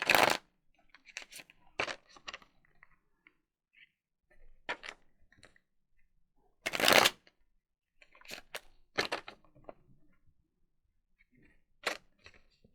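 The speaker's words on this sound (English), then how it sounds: "I've already shuffled these. I don't know why I just shuffled them." Several bursts of oracle cards being shuffled, brisk riffling sounds separated by quiet pauses, close by with no talking.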